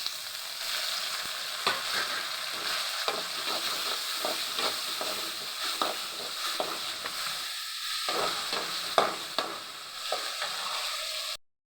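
Paste of ginger, garlic, pepper and cumin frying in a pan for drumstick chicken, a steady close sizzle with occasional stirring clicks and scrapes, ending abruptly.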